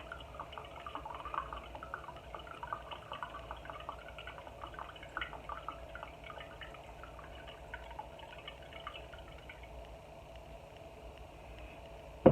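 White distilled vinegar trickles into a container of sweet cherries, a faint, steady liquid pour with soft dripping and gurgling, quiet and close throughout.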